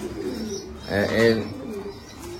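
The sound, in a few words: pigeon cooing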